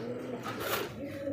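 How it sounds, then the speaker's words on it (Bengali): Lakha pigeons coo softly and steadily at a pigeon sale, a low murmuring call close by with a faint broadband rush swelling in the middle. "দর্শক বন্ধুরা দেখতে পাচ্ছেন চমৎকার আরও একটা কিন্তু লাখা কবুতর"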